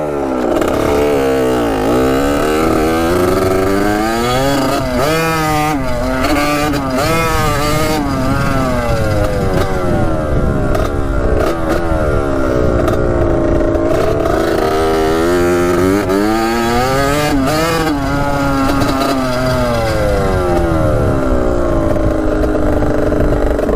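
An old, cheap dirt bike, bought for about $380, rides along a dirt path with its engine droning loudly and steadily throughout, the pitch rising and falling in repeated waves as the rider works the throttle, with no talking.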